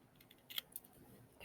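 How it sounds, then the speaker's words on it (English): Scissors snip through the edges of a paper Christmas sentiment in a few quick, faint, crisp cuts close by during card making. "Let's trim the edges off of this because it's a bit long"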